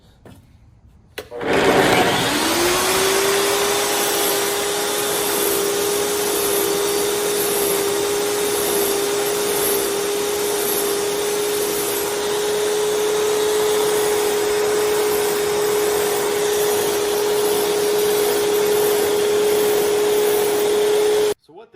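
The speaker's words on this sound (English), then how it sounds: "I'll show you really quickly how to dress that blade" An iQ Power Tools TS244 tile saw's diamond blade being dressed: the motor spins up after a brief silence into a loud, steady whine with a gritty abrasive hiss, holding constant for about twenty seconds before cutting off.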